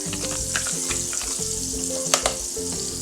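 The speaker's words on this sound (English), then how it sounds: "I take this amount of butter and I'm just greasing the pan just like this" Butter sizzling and frying steadily in a hot pan as it is spread to grease the surface for an egg omelette, a continuous close crackle with a few sharper pops and light utensil scrapes.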